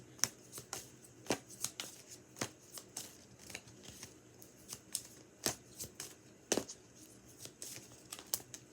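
Tarot deck being shuffled by hand: a steady series of crisp, close card riffles and slaps in uneven rhythm, with no talking.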